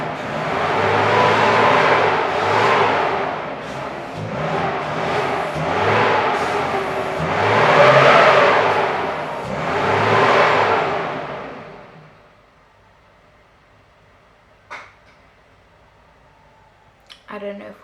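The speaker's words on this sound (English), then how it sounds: "They keep revving it." A car engine revs hard several times in rising and falling roars, then cuts out, leaving near silence broken by a few sharp clicks.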